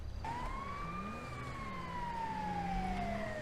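A video game ambulance siren wails in one long rising-then-falling sweep, loud and close, with low engine rumble underneath and no speech.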